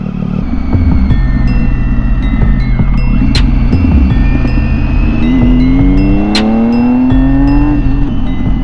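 A 2017 Triumph Tiger 800 XCx motorcycle with an aftermarket Dan Moto exhaust idles with a deep rumble, then revs up in a rising whine that climbs steadily before easing off, close by with no talk.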